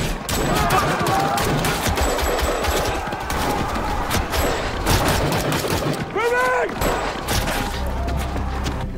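Dense, rapid gunfire rattles in a firefight with Taliban fighters, loud and continuous bursts overlapping one another for the whole stretch, with voices mixed in under the shooting.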